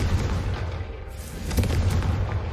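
In the video game Hogwarts Legacy, a Confringo fire blast spell lands with a loud, deep booming burst that rumbles on for a couple of seconds.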